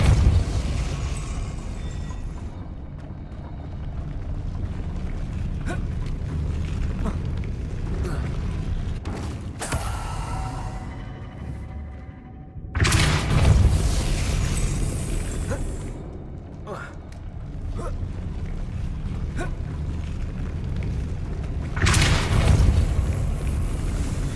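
In the video game Hogwarts Legacy, a Depulso spell is cast as several sudden booming bursts that rise out of a quieter, rumbling game background.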